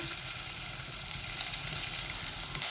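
Shallots with curry leaves and Kashmiri chilli powder frying in a pan for a mackerel fish curry, a steady close sizzle with faint stirring, no voices.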